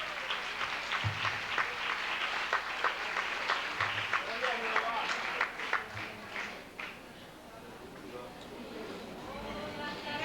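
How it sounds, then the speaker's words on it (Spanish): A church congregation at a convention applauds for several seconds with dense, sustained clapping, while talk carries on under it. The applause then dies away into quieter room sound. "Denle un aplauso al Señor,"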